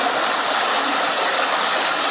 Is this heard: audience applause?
no